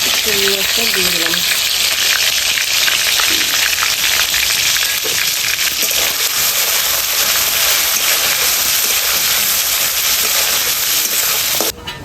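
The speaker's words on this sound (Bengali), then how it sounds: "চিংড়ি মাছটা ভেজে নেবো।" Salt-and-turmeric-marinated prawns frying in hot oil in a kadai: a loud, continuous crackling sizzle that stays steady and close, with a few brief tonal sounds at the start.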